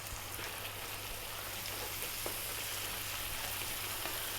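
Turmeric, chili, cumin, coriander and garam masala powder sizzling in a hot pan for egg dal, a steady soft hiss with a low hum beneath and no talking.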